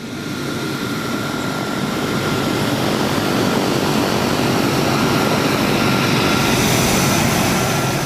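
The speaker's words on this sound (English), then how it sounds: "They've provided 2 Hercules C-130 aircraft." Engines of a Hercules C-130 transport carrying skydivers drone steadily and loudly, a constant propeller roar with no breaks, heard alone throughout.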